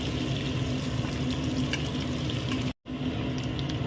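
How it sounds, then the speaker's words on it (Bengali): Paneer cubes shallow-frying in butter and oil in a pan, a steady close sizzle and crackle that runs evenly throughout, broken once by a very brief dropout near the end. "পনিরগুলো আমি হালকা করে ভেজে নিয়েছি, একদম হালকা করে।"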